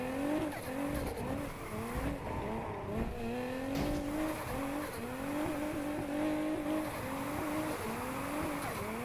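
Mazda RX7 drifting in the racing game Need for Speed Heat, its engine whining in rising and falling harmonic sweeps while tire squeal runs steadily underneath, loud and continuous throughout with no talk.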